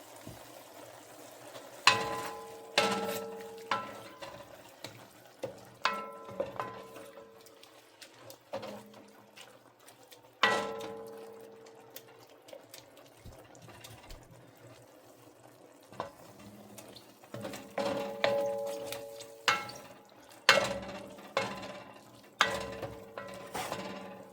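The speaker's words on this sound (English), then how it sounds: "we add in the peppers and the onions to saute it with the meat" Meat with peppers and onions sautéing in a pot for a one-pot tortilla soup, with soft sizzling under repeated scrapes and clatters of a stirring spoon against the pot, close and intermittent.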